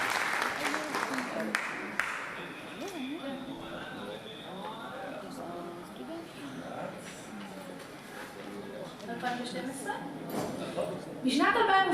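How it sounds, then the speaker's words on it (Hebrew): Applause at a college birthday celebration, scattered clapping that persists beneath talking voices and swells again near the end. "מגיע לה מחיאות כפיים"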